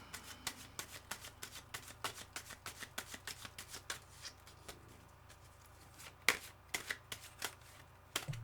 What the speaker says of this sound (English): What a messy shuffle